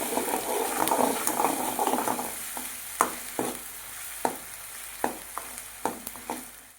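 Paste of coconut, garlic and ginger fries in hot oil with a steady close sizzle, broken by sharp scraping knocks of a spoon stirring it against the pan, alone without voices.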